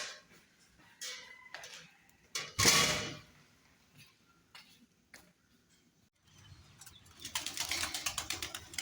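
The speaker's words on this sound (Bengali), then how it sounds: "দেখো কবুতর এরা দাঁড়িয়ে আছে অপেক্ষায়" Pigeons waiting to be fed at home make soft, faint shuffling and sporadic wing flaps, with one louder flutter burst and a quick run of light flapping near the end in a quiet space.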